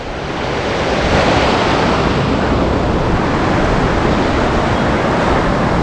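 A strong river current rushing through a narrow rocky channel roars as a dense, even wash of water, loud and constant from start to finish with no talk.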